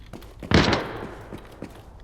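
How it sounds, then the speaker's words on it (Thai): Gunshots from a shotgun firing green buckshot rounds in the shooter game Arena Breakout Infinite, one loud sharp blast with a short decaying tail followed by a couple of fainter pops. "เสียงปืน"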